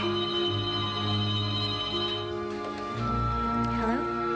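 Telephone ringing in a scene from the slasher film Scream 2, a college student getting creepy calls: a bright, sustained electronic ring that fills the clip over a low bed of background sound.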